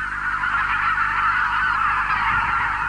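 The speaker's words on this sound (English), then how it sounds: "The wild geese are back." Wild geese honk in a dense, continuous flock chorus at close range as they return in late March, with bean, white-fronted and greylag geese calling together loudly and steadily throughout.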